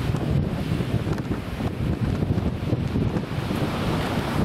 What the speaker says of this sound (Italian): Che vento! Che vento oggi, oh!